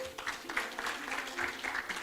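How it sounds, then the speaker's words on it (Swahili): Applause in a meeting hall for a retiring member of a staff Sacco, steady clapping from a modest crowd lasting throughout, fairly quiet and unbroken. "Makofi kwa Madam Rose."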